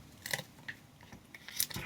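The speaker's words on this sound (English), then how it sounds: "Grab me some scissors, that might be easier." Scissors snip several times in quick succession, crisp close-up cuts with brief pauses between them, no talking.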